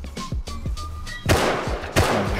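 Gunfire in the game Rust: a few separate shots at first, then two heavy, loud bangs spaced about half a second apart, each ringing out briefly.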